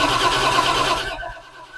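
A Plymouth Duster's Slant 6 engine cranks and catches on its first fire-up, a loud, rough mechanical roar close by that runs for about a second before abruptly cutting out and fading.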